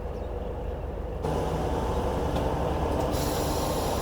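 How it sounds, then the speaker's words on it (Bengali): A train runs on the line at Pampore station in Kashmir, a steady rumbling roar of wheels on track that grows slightly louder partway through, heard from inside a moving train. "আর ওই লাইনে ট্রেন ঢুকেছে"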